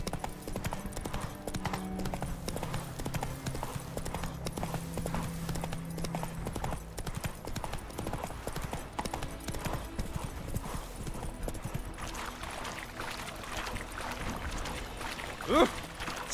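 Hooves of Roach, a horse in The Witcher 3 video game, clip-clop in a steady, rapid galloping rhythm throughout, moderately loud, with a brief whinny-like sound near the end.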